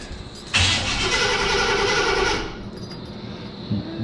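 An engine with a loose wire and fuel pump power trouble cranks briefly, then roars to life close by, running for a couple of seconds before fading back down.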